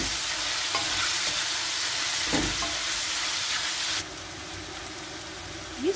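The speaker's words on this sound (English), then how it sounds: "Sprinkle soy sauce onto the button mushrooms." Button mushrooms sizzle and fry steadily in a pan after a sprinkle of soy sauce, a continuous close hiss with occasional stirring noises and a soft scrape near the end.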